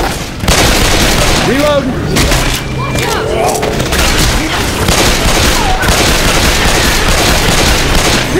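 Loud gunshots and booming blasts from Left 4 Dead 2 fire almost continuously in dense volleys, with voices calling out over the din.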